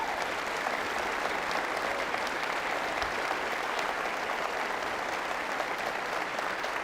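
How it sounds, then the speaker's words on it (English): A steady round of audience applause for both participants in a debate on God's existence, continuous and even for about seven seconds, moderately close. "I think it would be highly appropriate for us to please give a round of applause to both the participants."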